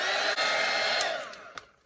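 A hair dryer blows steadily and loudly over wet watercolour paint on a night-sky painting, then tapers off and fades toward the end, with no voices.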